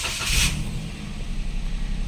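A Toyota Wigo's engine cranks and starts, a short burst of starter noise up front before the motor settles into a steady low idle, close by.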